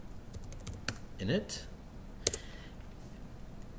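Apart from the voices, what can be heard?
typing a command on a computer keyboard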